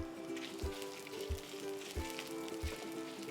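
Dried red chillies, urad dal and fenugreek splutter in hot oil with a steady, quiet sizzle, punctuated by small regular pops and crackles.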